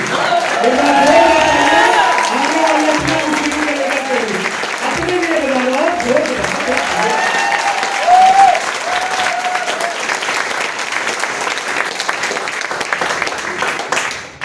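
An audience applauds at a business meeting, with dense, loud clapping that swells and fades over several seconds. Voices talk over and after the applause.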